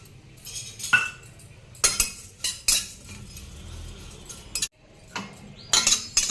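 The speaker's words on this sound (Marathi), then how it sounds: "आता मी पटक्याने पोहे भाजते" Poha, flattened rice, dry-roasts in a pan, heard as scattered metallic clinks and scraping strokes of a utensil against the pan, with short quiet gaps between bursts.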